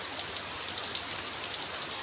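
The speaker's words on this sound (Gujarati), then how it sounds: "ધોધમાર વરસાદ પડી રહ્યો છે આજે" Heavy monsoon rain pours down in a village, a dense, steady hiss of drops hitting surfaces that stays even throughout, close and enveloping, with no voices or thunder.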